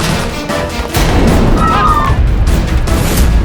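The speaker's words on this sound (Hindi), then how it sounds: "तुमने गोली चलने की आवाज सुनी?" A gunshot rings out in a Hindi courtroom drama scene as a loud, sharp blast about a second in, followed by a lingering noisy rumble.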